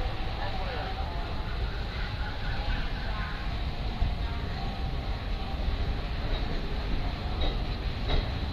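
The Kosi Super Express 18625, running from Patna Junction to Ranchi, departs Bokaro railway station with a steady rolling rumble and faint clatter of wagons that continues throughout.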